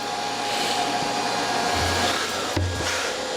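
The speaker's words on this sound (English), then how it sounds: "the compressor's running" Fridge compressor running with a steady low hum and broadband whir, continuous and close throughout, a brief click near the end.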